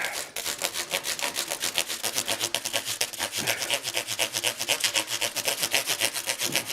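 Fine sandpaper rubs lightly over the metal frets of a guitar in quick, even back-and-forth strokes, a steady close scratchy rasp with no talking.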